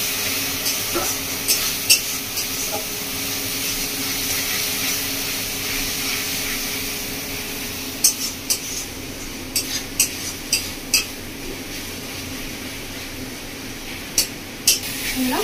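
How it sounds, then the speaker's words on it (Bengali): Chicken being stirred in a pan with ginger, garlic and green chilli paste, for a Bengali chicken kosha with whole urad dal: a steady hiss with scattered spoon clicks and scrapes, thickening in the second half. "আদা রসুন কাঁচা লঙ্কা বাটা দিয়ে ভালো করে মিশিয়ে নেব"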